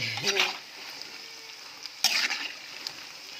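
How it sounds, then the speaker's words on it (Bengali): Onion fritters (peyaji) and chickpeas frying in oil for an iftar meal in a village home kitchen, a soft sizzle with a couple of brief bursts of stirring clatter and a faint voice early on. "পেঁয়াজি ভাজা হচ্ছে রান্না শেষ এখন প্রথম ইফতারি ভাজা"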